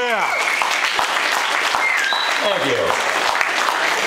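Applause from a live comedy audience, a broad steady patter of clapping filling the room, with a performer speaking briefly over it.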